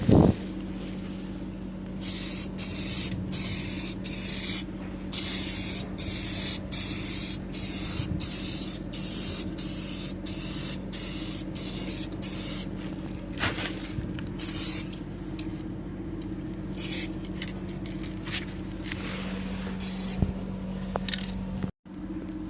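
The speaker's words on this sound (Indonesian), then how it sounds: "10-15 menit kita lanjut ke penyemprotan kedua ya" Bursts of spray paint, Diton Candy Tone Red, misting onto motorcycle parts of a Honda MegaPro, loud and close, in repeated short hissing passes with brief gaps, steady from start to finish over a low constant hum.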